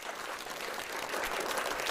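A group claps steadily in dense, even applause at moderate distance, with no talking over it.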